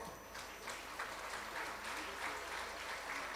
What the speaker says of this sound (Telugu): ఒక్కసారి గట్టిగా క్లాప్స్